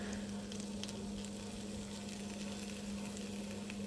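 Chopped tomato frying in a pan with chicken for tawa chicken, a soft steady sizzle with faint scraping of a spatula stirring, low and continuous with a constant hum underneath.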